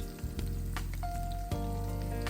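Mushrooms fry in a hot pan with a steady, close crackling sizzle that runs throughout, a brief spatter burst near the middle, and no talking.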